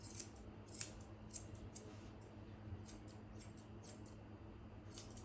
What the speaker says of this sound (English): So I'll just get my lovely Kajiro scissors.